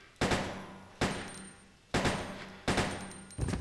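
Four evenly spaced, heavy gunshots at a zombie in Resident Evil: Code Veronica X boom out one after another, each with a short decaying tail, and a fifth begins at the end.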